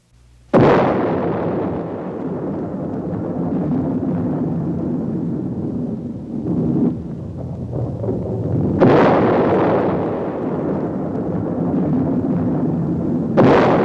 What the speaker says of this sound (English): The world was deeply shocked by the first atomic explosion.